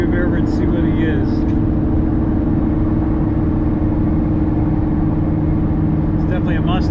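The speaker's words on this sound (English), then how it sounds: "It's definitely a Mustang" A bright green Ford Mustang with black stripes approaches from behind on the road. Its engine drone and road noise stay steady and close for the whole stretch, with voices talking over it.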